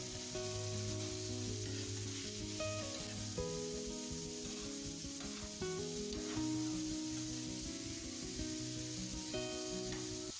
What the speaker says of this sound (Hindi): मिक्स करते हुए अच्छे से इसको भून लेंगे।